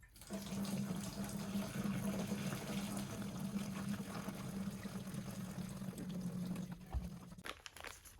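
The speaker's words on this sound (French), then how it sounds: "je vais essayer de vider l'ancienne tank dans un bidon avant d'enlever la pompe à gaz" Fuel drains out of an old motorcycle gas tank into a container with a steady trickling, gurgling pour that continues for several seconds, then thins out and stops near the end, quiet and close.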